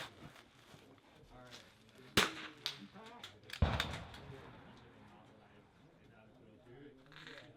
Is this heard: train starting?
no